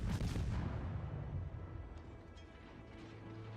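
Naval gunfire in World of Warships aimed at the Kirov: a loud booming shot at the start, fading into a low rumbling tail with faint distant pops afterward.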